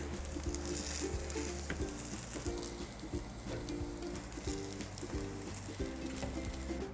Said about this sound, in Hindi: दूसरी तरफ पलटकर पकाएंगे इसे।